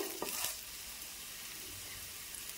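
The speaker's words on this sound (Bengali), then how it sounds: "পেঁয়াজটাকে হালকা ব্রাউন কালার করে ভেজে নেব" Chopped onion sizzles in hot oil in a pan for a Bengali aloo chop, a soft steady frying hiss with a brief stir or clatter near the start and no talk.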